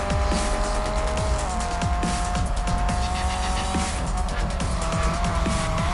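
A Ford Focus race car in the Real Racing 3 mobile game roars continuously at close range, its engine note rising and falling through gear changes while tires squeal and skid repeatedly in the corners.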